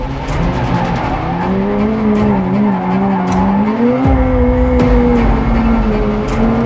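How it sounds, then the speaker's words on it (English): A McLaren 765LT sports car is driven hard on a track at Dunsfold, its engine roaring loud and steady with rising and falling pitch while tires squeal and skid throughout. "I've doubled down in the 765 LT, the long tail, one of McLaren's flagship models"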